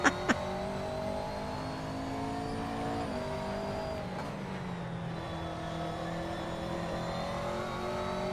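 GT3 race car engines drone steadily in the SRS racing game, a continuous close engine tone that rises and shifts pitch over several seconds as the cars rev through the gears, with no talking.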